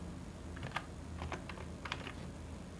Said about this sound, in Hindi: इनपुट डिवाइसेस के नेम टाइप करने हैं